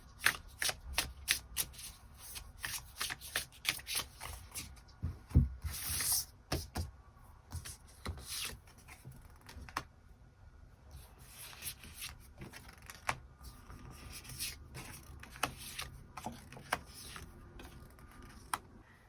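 Tarot cards are shuffled and drawn at close range, giving quiet riffling, rubbing and light tapping in irregular bursts, with soft pauses between handfuls and no speech.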